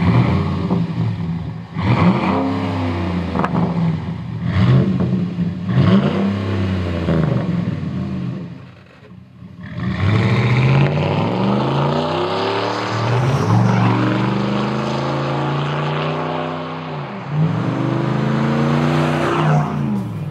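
Ford F150 pickup with a 4.6L, 5.0L or 5.4L V8 and a stainless Outlaw cat-back exhaust revving hard, a deep, loud engine roar rising and falling in repeated pulls with a brief dip midway.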